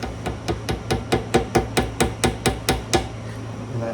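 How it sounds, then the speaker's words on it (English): A banjo railroad spike being driven down with a hammer, a feeler gauge slipped beneath it: about a dozen sharp metallic strikes in a steady, even rhythm, close and loud, with no talking. "I put a feeler gauge underneath it as I'm driving it down so I know how far to hammer it."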